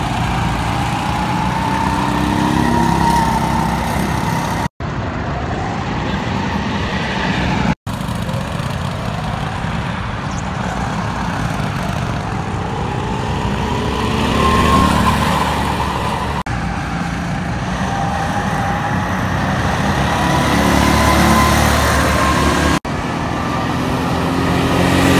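Go-karts run around the Michael Schumacher kart center track, with a steady drone of small engines rising and falling as they pass, recorded continuously with a few abrupt cuts.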